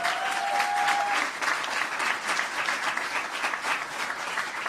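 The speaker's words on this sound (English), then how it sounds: "If you could give her a round of applause." An audience at a historic preservation celebration applauds steadily with dense, sustained clapping that holds at an even level throughout.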